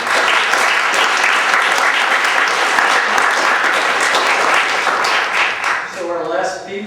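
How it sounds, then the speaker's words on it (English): A ribbon-cutting dedication audience gives a round of applause that stays loud and even, then tapers off as a speaker begins talking. "So I think one more round of applause."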